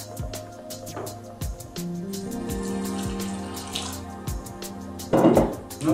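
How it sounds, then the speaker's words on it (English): A thin stream of water pours from a tap into flax seed bread dough, running steadily for several seconds with a few clinks and splashes and a louder gush near the end. "I think it's too dry, so I'm gonna add a little water."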